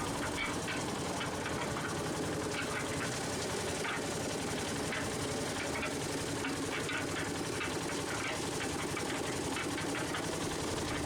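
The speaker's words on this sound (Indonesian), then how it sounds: "barang bukti sabu ini dilarutkan dengan cairan BBM ke dalam mesin molen" A cement mixer engine runs steadily and loudly, churning seized methamphetamine dissolved in fuel, with a continuous rattling drone throughout and no speech.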